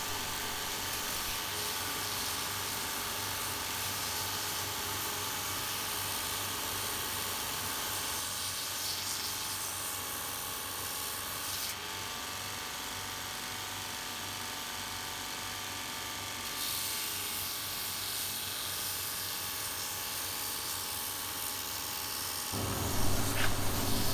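A belt sander whirs and hisses continuously on a wooden hatchet handle, steady and close, with slight shifts in pitch as pressure changes.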